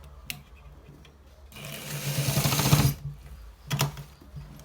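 A sewing machine stitching a designer shirt collar whirs in one loud burst of rapid, even needle clatter lasting about a second and a half. A shorter run follows, set off by a few faint clicks and handling noises.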